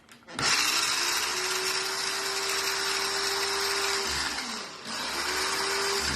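Blender whizzing kimchi paste of ginger and garlic, motor kicking in sharply with a loud steady whir, briefly dipping and stopping, then revving up again, close by.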